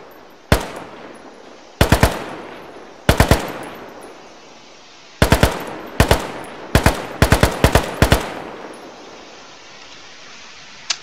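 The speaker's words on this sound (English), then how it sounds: "Oh, this is the AK-103" An AK-103 rifle firing in the video game RHS, sharp loud gunshots in short bursts and single rounds, each crack decaying quickly, spaced irregularly across the stretch with near-silence between.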